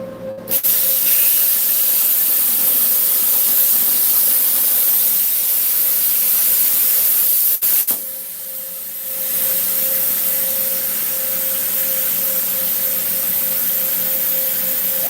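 An Arcdroid CNC plasma cutter cutting metal gives a loud, continuous hissing roar with one brief break in the middle before it resumes.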